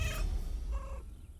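A cat meows in the video game Baldur's Gate 3, two short tonal calls with a pause between, fairly faint over a low background hum, with no talking.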